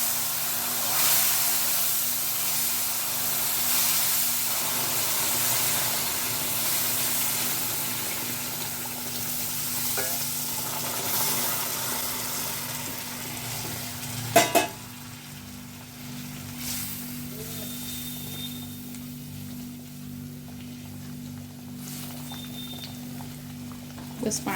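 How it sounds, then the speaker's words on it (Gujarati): Water poured slowly into semolina roasting in a pan over a medium gas flame while it is stirred, a soft continuous sizzle and bubbling that quiets after a brief clatter midway, with no voices. "ગેસની ફ્લેમ મીડિયમ કરીને આપણે બધું પાણી ધીમે ધીમે આમાં એડ કરીશું અને સાથે હલાવતા જઈશું"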